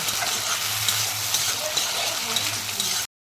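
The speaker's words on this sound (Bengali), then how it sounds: "আমি আদা রসুনের পেস্ট দিয়ে দিলাম মাছে" Dried loitta fish fries with ginger garlic paste in hot oil, a steady dense sizzle with stirring for about three seconds before cutting off abruptly.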